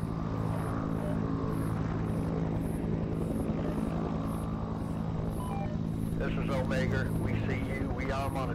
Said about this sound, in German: Ist doch ein Helikopter.